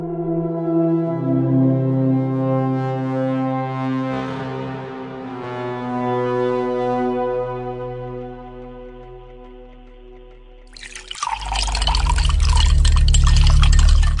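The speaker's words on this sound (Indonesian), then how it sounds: "Aku sedang menyeduh susu dengan air hangat." Warm water pours steadily into a container, a rising liquid rush that grows louder near the end as the vessel fills, with no voices.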